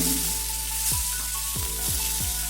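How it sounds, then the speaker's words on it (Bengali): White egg brinjal slices frying in hot oil, with a steady close sizzle and a few soft stirring bumps, no voices. "বেগুনগুলোকে ভেজে নিচ্ছি।"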